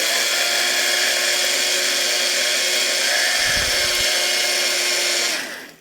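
Electric grinder buzzing steadily as it grinds seeds for vegan quinoa porridge, a loud, continuous close whine with a brief low rumble near the end before it cuts off.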